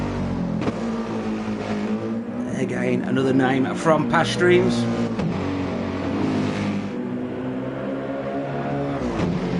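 A GTMA Racing Mercedes-AMG GT race car drones and revs during qualifying for the Bathurst 12 Hour at Mount Panorama, its engine note rising and falling steadily beneath a commentator's continuous talk.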